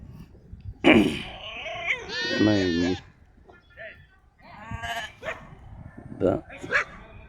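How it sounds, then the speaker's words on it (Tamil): A goat herder's dog near a farm goat pen barks in several sharp bursts, close and fairly loud, mixed with bleating-like calls while people talk nearby. "அந்த ஆட்டுக்காரரோட நாய் வந்து குலைக்குது பாருங்க"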